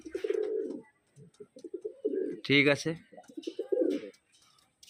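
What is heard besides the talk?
young pigeons cooing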